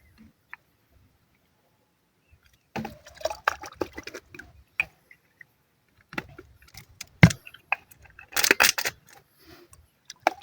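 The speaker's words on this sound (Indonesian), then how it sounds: "Kita aduk rata, terus kita campurkan langsung ke tangki sprayer." Liquid leaf fertilizer mixture for chili plants being stirred by hand, giving sporadic close sloshes, clinks and drips in short uneven bursts separated by quiet gaps.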